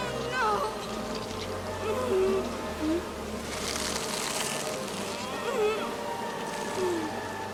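A swarm of bees buzzing in the Candyman horror film, a droning hum mixed under voices and film soundtrack.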